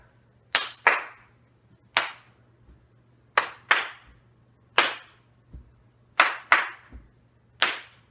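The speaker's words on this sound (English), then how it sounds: "So that's the clapping part." Hands clapping in a dance routine, sharp single and paired claps in a steady counted pattern, about a dozen crisp strikes spaced evenly with silence between, close and loud with a faint low hum underneath.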